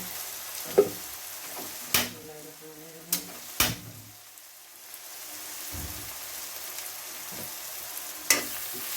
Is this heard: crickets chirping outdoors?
no